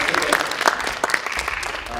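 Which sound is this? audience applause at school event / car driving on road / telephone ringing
audience applause at school event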